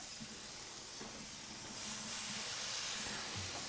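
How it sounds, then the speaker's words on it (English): Shish kebabs sizzle on a live-fire barbecue grill, a steady, fairly quiet hiss that swells a little louder partway through, with faint bumps and clinks, and no talking. "Oh, listen to that sizzle."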